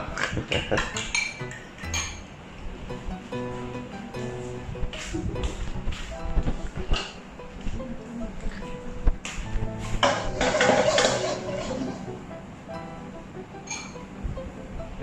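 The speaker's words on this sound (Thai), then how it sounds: "ตีตรงนี้ดิตีหน้ากล้องดิ ตีมากฟองขึ้นนะครับไม่แบบไข่เจียวนะคร" Eggs beaten by hand in a bowl until foamy for a rice-topped chicken and egg dish, a dense run of quick metallic clinks and scraping taps against the bowl, close and steady with brief louder bursts.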